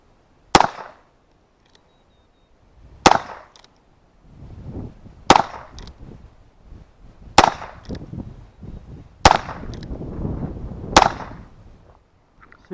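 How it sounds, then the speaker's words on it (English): Six sharp, loud cracks of CCI Mini-Mag .22 LR rounds fired from a revolver, spaced about two seconds apart, each with a short ringing decay, with faint rustling and handling noise between shots. "full cylinder of each round in that revolver and just blast"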